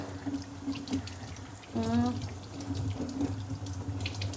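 A tap runs steadily into a sink while fish are being washed, with a brief louder gush of water partway through and faint splashing throughout.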